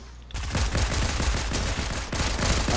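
A fast burst of Fortnite gunfire rattles off after a brief quiet start. The rapid, evenly spaced shots run loud and continuous to the end.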